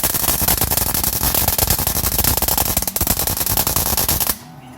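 A welder crackles and spits in a loud rapid buzz of arcing bursts while a U joint is welded on a K5 Blazer, running continuously for about four seconds before cutting off abruptly.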